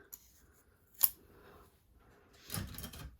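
Scissors cutting a folded sheet of envelope labels indoors: a sharp close snip, then a longer crunching cut near the end, with quiet room noise between.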